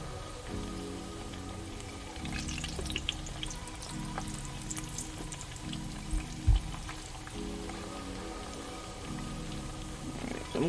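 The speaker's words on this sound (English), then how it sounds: "now we're going to go ahead and fry these again" Green plantains frying in oil give a steady crackling sizzle under a low hum, with a brief thump partway through and no voices.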